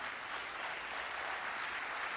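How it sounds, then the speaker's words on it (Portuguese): A congregation in a church claps together during a sermon, a dense, even wash of applause at moderate volume with no pause. "Você pode aplaudir ao Senhor"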